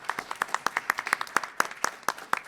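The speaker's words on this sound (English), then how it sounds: "give a big round of applause to Don Grady and Heather Burks" A small audience at an academic symposium claps, the individual hand claps distinct and rhythmic, around twenty sharp, close claps over two and a half seconds rather than a dense roar, with no talking.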